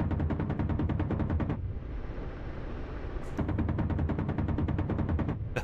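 A Ka-50 Black Shark helicopter's cannon fires at its high rate in DCS, two rapid, loud bursts of evenly spaced shots separated by a short pause of rumbling engine noise.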